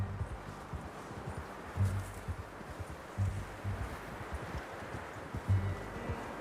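Horse hooves clip-clop at a steady walking pace over a soft bed of ambient noise, with occasional heavier thuds, in the video game Red Dead Redemption 2.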